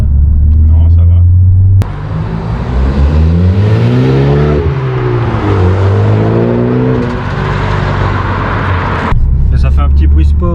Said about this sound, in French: Et ça fait un petit bruit sport assez sympa quand même.